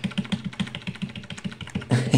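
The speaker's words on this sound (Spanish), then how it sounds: "El teclado, me imagino cómo debe estar sonando." Computer keyboard keys are mashed rapidly in a fast, steady run of clattering taps, close and fairly loud, ending in a burst of harder strikes.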